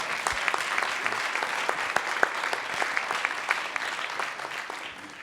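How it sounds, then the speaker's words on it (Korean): Audience applause at a Korean political forum on a digital-economy national strategy, with a presidential candidate invited; many hands clap in a steady, fairly even wash lasting the whole stretch, with a few sharper claps standing out. "이에 동의하시면 여러분들 박수 한 번만 더 쳐주십시오"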